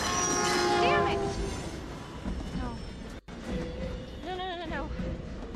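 A train rushes past in the video game Hidden Agenda, its horn blaring loudly at first, then wheels rumbling and squealing as it goes by, with a brief cut and a voice talking over it.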